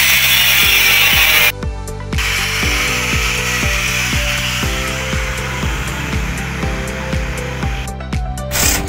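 Power drill with a masonry bit countersinking a screw hole while building tubular steel eaves: a loud, continuous whining motor with a rhythmic ratcheting pulse, briefly pausing and shifting pitch, heard up close with no speech.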